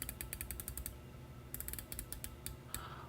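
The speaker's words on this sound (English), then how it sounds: "the bezel action, I just got to enjoy the sound" Quick bursts of tiny metallic clicks from a titanium dive watch bezel ratchet in rapid runs, pausing briefly between turns, close and faint against a quiet background.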